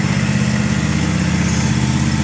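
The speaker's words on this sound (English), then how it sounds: "She's learning how to drive the lawn tractor today." A lawn tractor engine runs steadily and loudly close by, with a low mower-like drone holding constant throughout and no talk.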